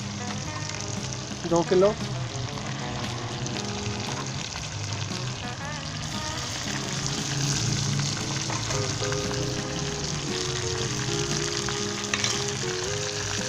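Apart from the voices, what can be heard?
chicken frying in a karahi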